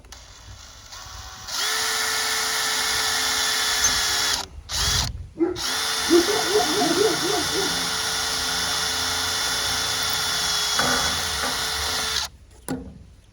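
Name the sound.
power drill drilling a hole in pipe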